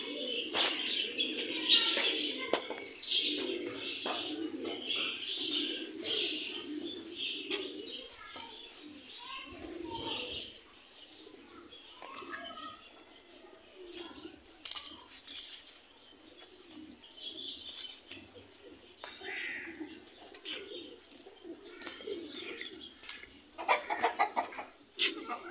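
Pigeons and chickens on a home farm: soft repeated cooing and clucks mixed with chirps and bird calls, steady throughout at moderate level, with some talk underneath.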